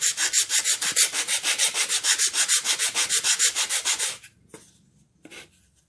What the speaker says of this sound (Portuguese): Lixa para massa número 60, né?